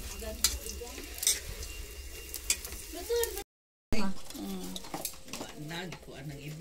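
Food frying in a pan with stirring and light clatter of utensils against cookware, a steady sizzle running under Filipino conversation, with a brief dropout midway.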